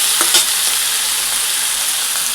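Broad beans frying in oil, heard as a loud, dense, continuous sizzle right up close, with a couple of brief stirring touches near the start and no voices.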